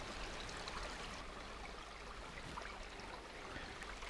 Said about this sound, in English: Listening to the river flowing through.